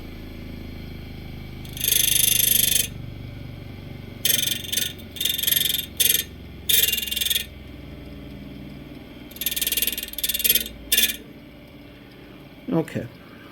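An Auto World XTraction slot car motor spinning up with no replacement parts, bursts of high-pitched whirring revving in short runs, stopping and starting repeatedly, with quiet pauses between.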